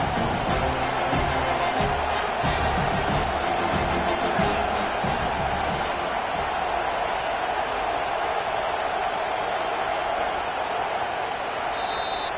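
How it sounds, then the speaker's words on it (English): Stadium crowd roaring in the Madden football video game, a steady dense wall of cheering noise filling the whole stretch, with a commentator's voice talking over it. "Listen to this crowd just shaking the girders of this place"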